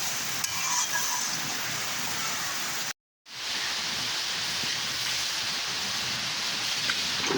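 Spice paste for a duck curry fries in a pan with a steady, dense sizzling hiss, broken by a brief silent gap near the middle before the frying noise returns.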